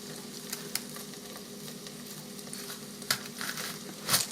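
Bacon grease renders in an electric pressure cooker pot, a steady, moderate sizzle with crackling pops and a couple of louder spits near the end, heard without any talking.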